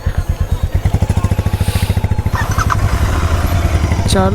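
Royal Enfield Interceptor motorcycle engine running with a steady, loud pulsing thump close by, a brief faint chirp near the end.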